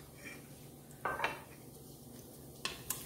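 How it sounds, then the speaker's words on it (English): Utensil scraping and clinking against a pan while garlic, ginger and curry leaves are stirred in hot oil, with a few sharp metallic knocks among a faint, steady background hiss. "Give it a good stir"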